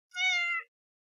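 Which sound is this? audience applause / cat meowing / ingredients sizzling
cat meowing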